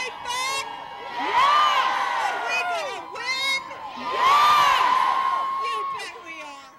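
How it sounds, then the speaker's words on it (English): Protesters at an anti-abortion awareness event shouting in two loud, rising surges of overlapping voices, with chanting and whoops between them. "Their opposition to the Silent No More awareness event drew shouts of protest."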